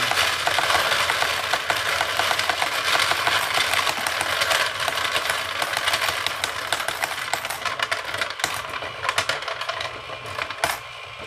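Coin counting machine running continuously, sorting and counting a steady stream of coins with a dense, rapid metallic clatter over a motor hum, close and loud throughout with no talk.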